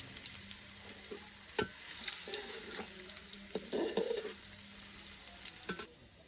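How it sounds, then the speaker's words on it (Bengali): Chopped ginger fries in a pan for khichuri, a soft sizzle beneath occasional spoon clinks and stirring scrapes, fairly quiet and close, with a brief watery splash partway through. "আদা কুচি দিয়ে দিলাম, ভালো করে নেড়ে চেড়ে মিশিয়ে নেব"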